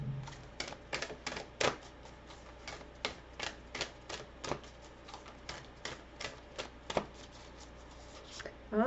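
A deck of Moonology oracle cards is shuffled close up, a quick run of crisp riffling snaps in an irregular rhythm, with no talk.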